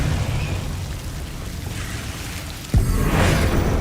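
A Confringo fire spell explodes in Hogwarts Legacy, a sudden burst and low boom that cuts into a steady rumble of game ambience and then leaves a brighter hiss, with no voices.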